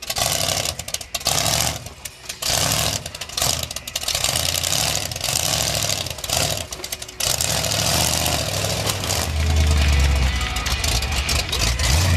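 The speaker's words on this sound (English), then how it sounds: "This engine's trying to cut out on it." An off-road 4x4 show truck engine sputters and surges unevenly on a course, its roar dropping out in repeated gaps as it threatens to stall, loud and close, with brief drops between bursts.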